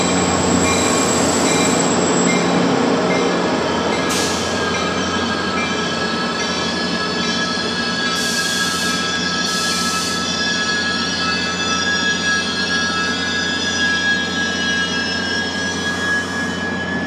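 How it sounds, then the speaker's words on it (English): A train pulling into a station platform, a loud continuous rumble of rail cars with steady wheel noise and recurring high metallic squeals from the wheels, heard close and sustained throughout with no talk. "Sorry, train's here."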